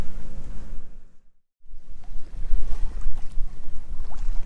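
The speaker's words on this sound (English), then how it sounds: "So we're just cruising along on the sails" A sailboat cruising under sail on an overnight offshore passage, with rushing wind and water noise broken by a brief total dropout, then returning louder with choppy splashing and buffeting.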